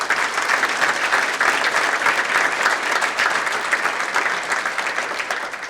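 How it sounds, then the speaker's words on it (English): Sustained applause from a banquet crowd at a women's achievement awards event, a thick even wash of many people clapping at steady volume that eases off slightly near the end, no speech over it. "Let's give them a round of applause."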